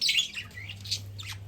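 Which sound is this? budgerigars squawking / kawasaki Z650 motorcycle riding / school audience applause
budgerigars squawking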